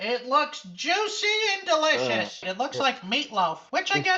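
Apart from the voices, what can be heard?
No distinct noise like a dog, phone or traffic.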